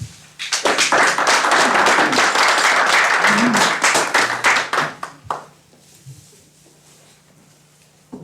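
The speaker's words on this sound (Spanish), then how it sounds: "Le damos la bienvenida con un aplauso." Audience applause welcoming a speaker to a lecture on Aztec teponaztli drums, a room of clapping that swells, holds for several seconds, then fades out to near quiet.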